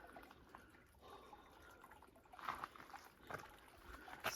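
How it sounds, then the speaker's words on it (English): A very small babbling brook near Bear Lake in Rocky Mountain National Park trickles and drips faintly, soft intermittent water sounds rising in a few brief splashy bursts. "Oh, a babbling brook."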